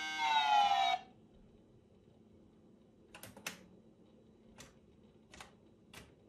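Keys are pressed on an Amstrad CPC keyboard, a handful of sharp, separate clicks spaced out over several seconds after a brief electronic tone at the start, close and fairly quiet.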